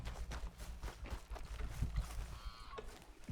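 Horses galloping in Red Dead Redemption 2, steady clip-clop hoofbeats, quiet and rhythmic under faint ambient game sound, with a brief honking call near the end.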